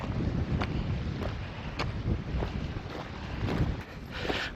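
Strong wind buffets the microphone on Helvellyn in the Lake District, a steady roaring gust with a few faint clicks on top and no talking.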